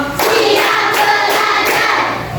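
A primary school class claps in a counted pattern, bursts of sharp group hand claps in quick rhythmic clusters, loud and close in the classroom.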